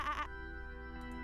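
A black sheep in the adventure game Discworld II gives a short, wavering bleat at the start, followed by a quiet sustained synth tone from the game's music.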